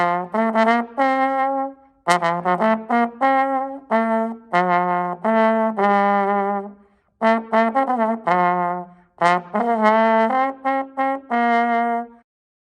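A trombone played solo, a string of sustained brassy notes and short phrases with slide-shifted pitches, clear and close, separated by brief pauses, no talking.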